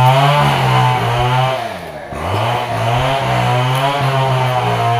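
A chainsaw runs loud and close beside a hut, its engine droning steadily with one brief dip in revs midway before climbing back to a constant buzzing roar.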